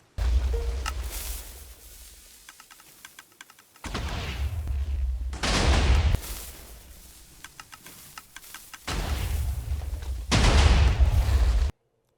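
Minecraft mega cannon firing: loud booming bursts of charges exploding, separated by stretches of quieter mechanical ticking and clicking, with no speech.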